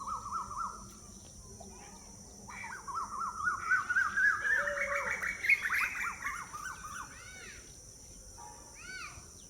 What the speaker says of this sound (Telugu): నేను ముగ్గు వేసేటప్పుడు ఈ పక్షులు వచ్చి అరుస్తాయో